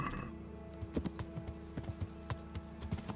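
Hooves clip-clop at a steady ride in the medieval video game Kingdom Come Deliverance, a run of close, fairly quiet hoof strikes over a low constant game ambience.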